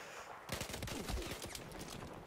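A rapid burst of Battlefield 4 gunfire, sustained automatic shots crackling for about two seconds, fairly loud against a steady electronic background.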